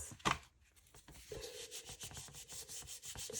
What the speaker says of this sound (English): Just kind of rub from the back side too, and hopefully not cause a slippage and an extra impression.